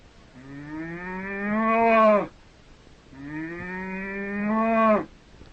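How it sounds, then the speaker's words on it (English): A cow lets out two long, drawn-out moos separated by a short pause, played as a recording on an old-time children's radio program about animal noises. "That's a cow."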